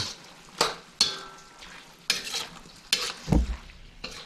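Chow mein stir-fried in a pan, with loud scraping stirs and tossing strokes in irregular bursts, a soft sizzle underneath and a heavier clank of the pan near the end, close up.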